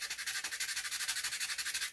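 Rapid rhythmic sanding strokes over painted wood, a steady scratchy back-and-forth rasp repeating about ten times per second for two seconds, close and moderately loud with no talking.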